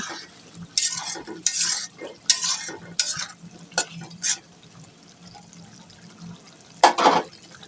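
Tomatoes and potatoes are sautéed in a pan and stirred in repeated bursts of scraping and sizzling, with quieter frying in between, close by and without speech.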